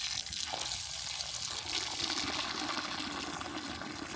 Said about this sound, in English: You put the water in and you cover it.